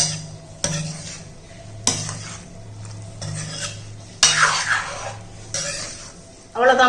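Soup noodles with lemon juice are stirred in a metal pan, giving repeated scraping and clinking strokes at an uneven rhythm over a low sizzle, close and fairly loud.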